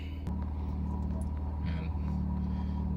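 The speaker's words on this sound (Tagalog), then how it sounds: "cold start muna ng kotse." A Honda Jazz GK with a turbo setup idles steadily after a cold start, a low continuous engine drone holding throughout with a brief rise in pitch partway, while a person talks over it.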